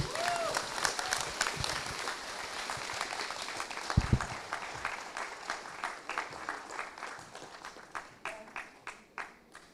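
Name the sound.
audience applause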